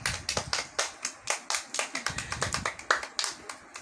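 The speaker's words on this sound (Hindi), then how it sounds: "एक बार फिर से अपने लिए तालियां बजाएं" Children clap for themselves at a school event, a quick burst of sharp, close hand claps in a brisk, slightly uneven rhythm with no talking.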